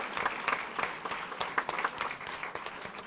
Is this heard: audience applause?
yes